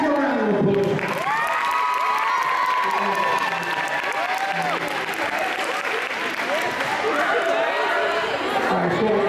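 An audience bursts into sustained applause with cheering and shouts, a dense continuous crowd roar lasting throughout.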